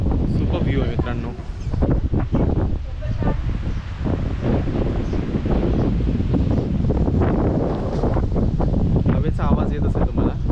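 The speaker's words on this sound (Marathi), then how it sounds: "हवेचा आवाज येत असेल तुम्हाला." Steady wind gusts blow beside Umiam Lake in Meghalaya, buffeting the microphone loudly and continuously with rustling trees throughout.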